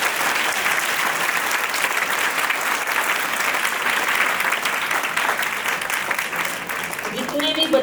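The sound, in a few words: audience applause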